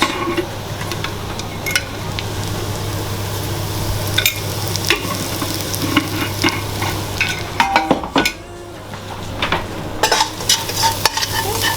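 Masala beans frying with red chili and salt, stirred in a hot pan: a steady close sizzle under repeated scraping strokes and occasional clinks of utensil against the pan, with no talking.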